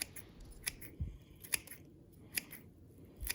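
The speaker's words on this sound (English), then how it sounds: "long roots like this will comb out, and those should be cut off." Scissors snip off long roots of a dwarf Alberta spruce bonsai: several quiet, sharp clicks spaced irregularly over a soft background, close by, with no talking.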